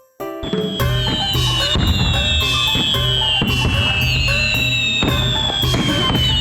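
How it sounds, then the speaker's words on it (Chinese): Animated fireworks at a Spring Festival gala, a dense run of crackling bursts and whistling rockets that begins abruptly and stays loud throughout. "要来点烟花吗？"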